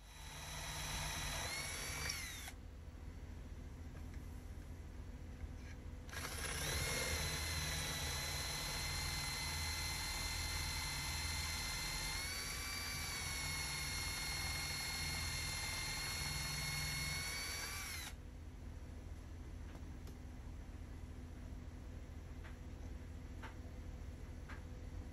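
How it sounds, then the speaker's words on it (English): A power drill bores holes in cut wood pieces for a reef tank refugium build. Its high, steady whine runs for long stretches, and between them there are quieter pauses with a low background hum. "Next thing to do is get it all drilled, ready to be screwed together."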